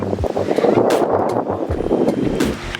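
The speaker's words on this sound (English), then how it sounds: "You can see so windy now" Strong wind buffets the microphone in a loud continuous roar with gusting low rumble throughout.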